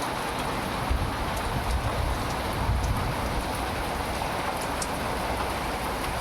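Steady rain falls continuously, a dense, even patter on surfaces with no pauses and no voices.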